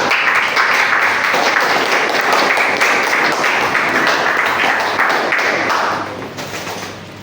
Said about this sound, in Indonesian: Rara tepuk tangan dulu.